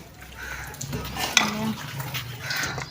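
Pots, pans and utensils clatter as dishes are washed in a village household, with a sharp metallic clank midway over a steady background of scraping and handling.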